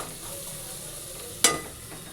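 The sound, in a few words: vegetables frying in oil for khichuri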